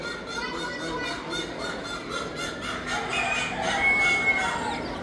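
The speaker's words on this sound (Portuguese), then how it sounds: "Olha aqui os pintinhos, galera." Chicks and chickens clucking and peeping at a regional fair where poultry is shown and sold, with a steady busy background and a few thin high cheeps near the end.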